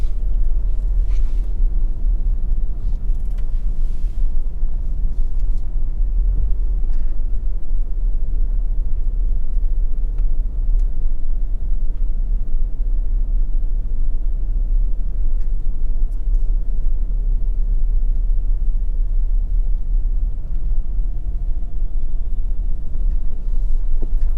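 A car drives along a countryside road in St. Elizabeth, Jamaica, its steady low engine and tyre rumble continuous and close throughout, with light wind buffeting and no talk.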